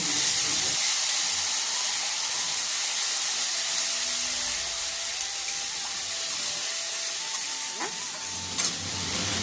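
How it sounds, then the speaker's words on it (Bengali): Ground spice paste fries in hot oil for a Bengali bele fish jhal, giving a steady close hiss and sizzle while a spoon stirs through it, with a few scraping touches near the end. "দিয়ে নাড়াচাড়া করে ভালো করে ভেজে নেব।"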